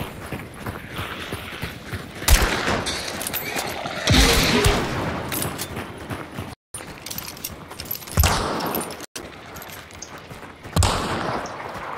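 Shotgun and rifle fire in the video game Hunt: Showdown cracks out in several loud, sharp bursts spaced a few seconds apart, with clattering and rustling movement between shots.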